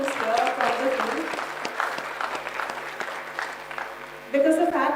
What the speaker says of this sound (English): So can we just have a big round of applause for everyone who's here from the field?